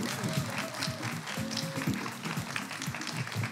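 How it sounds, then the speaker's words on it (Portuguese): At a televised Portuguese pageant final, the audience applauds the remaining finalists with steady, dense clapping that fills the hall while a presenter speaks over it. "Peço um forte aplauso para as restantes finalistas pela fantástica prestação que tiveram"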